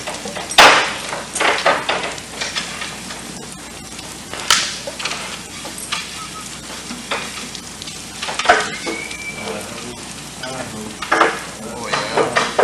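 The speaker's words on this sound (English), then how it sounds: "Washing our ladders." Fire service ground ladders are washed during an instructor practical skills session, with repeated scrubbing, splashing and hissing bursts that come and go irregularly at close range.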